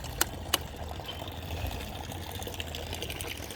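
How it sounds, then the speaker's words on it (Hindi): Water spilling over the brim of a full household water tank, spreading across the floor in a steady, quiet wash with two sharp knocks near the start. "टंकी भर गई है तो काफ़ी सारा पानी यहाँ पर फैल रहा है।"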